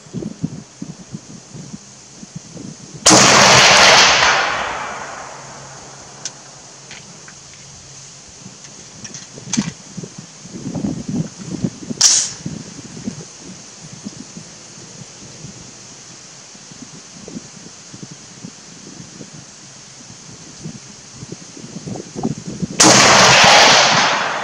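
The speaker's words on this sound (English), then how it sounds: "5 round group just for kicks." A SOCOM Mk 12 rifle fires outdoors near trees: two loud, sharp shots with long, rolling reports about twenty seconds apart, and quiet rustling between them.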